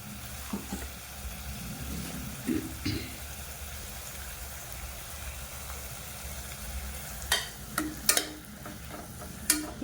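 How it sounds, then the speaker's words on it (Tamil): Ground onion and tomato paste sauté in a pan with a faint, low sizzle, punctuated by a few light scrapes and taps of stirring near the end. "இப்போ இது எல்லாமே நல்லா பச்சை வாசனை போக நல்லா வதக்கிக்கணும்"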